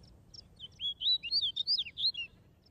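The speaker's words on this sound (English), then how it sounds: "It's a male snow bunting." A male snow bunting sings a quick run of clear, high, warbling notes close to the microphone, over a low outdoor rumble along a northern Atlantic coast.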